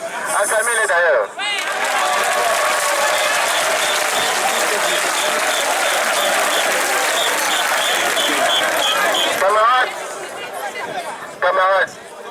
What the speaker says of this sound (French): Acclamez-les d'ailleurs.